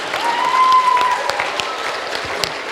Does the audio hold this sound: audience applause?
yes